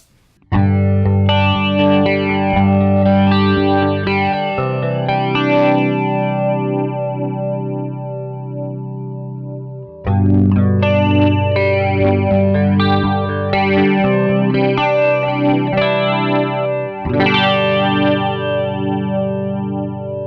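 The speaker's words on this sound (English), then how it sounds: "So that's kind of a medium flanger with, clean guitar, obviously, which sounds more chorus-like." Clean electric guitar through a Source Audio Orbital Modulator set to a medium flanger, giving a swirling, chorus-like shimmer over loud strummed chords and ringing notes, with a brief pause partway through.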